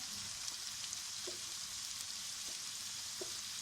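Sizzling and frying of turnip curry in a hot pan as ginger and garlic go in, a steady, faint crackling hiss with a few soft stirring clicks.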